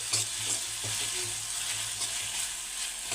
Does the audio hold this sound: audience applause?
no